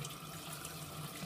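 Tap water runs steadily into a mini dachshund's bath at home, a close, continuous splashing rush.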